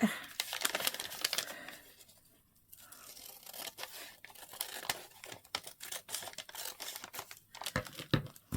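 Scissors snip and crinkle through junk mail paper being trimmed for industrial tags, a close run of sharp cuts and rustling with a brief lull partway through.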